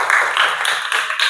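Students in a school classroom clapping hands together briefly, a short dense patter of claps at close range, lively and unbroken, with no talking over it.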